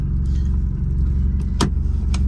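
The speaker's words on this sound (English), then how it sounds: "this car hasn't been, I ain't drove this car like in two weeks or a week. And it started right up." A Porsche 944 engine idles with a steady low rumble while the car backs up, with a couple of brief sharp clicks or clatters cutting through, close by and without speech.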